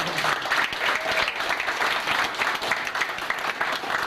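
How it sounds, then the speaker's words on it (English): A wedding crowd in St. Vincent and the Grenadines breaks into dense, continuous applause, many hands clapping at once, loud and sustained throughout. "So give him a round of applause for that."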